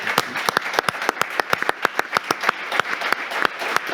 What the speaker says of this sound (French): Applaudissements pour Emmanuel Rondeau